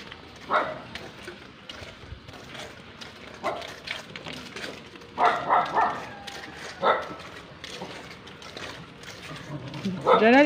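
A dog barks and yips a few times at moderate distance on a walk home in Laguna, Philippines, amid outdoor background noise and people talking.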